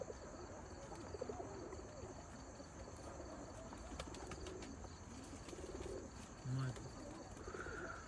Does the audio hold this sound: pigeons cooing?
yes